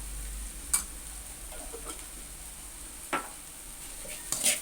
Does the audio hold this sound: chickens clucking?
no